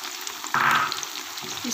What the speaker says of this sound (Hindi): इसको हम अच्छी तरह से फ्राई कर लेते हैं